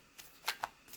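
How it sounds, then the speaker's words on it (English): Tarot cards being shuffled by hand, heard as a few short, crisp riffling bursts spaced apart, close and fairly quiet with no talking. "So I've already shuffled the cards."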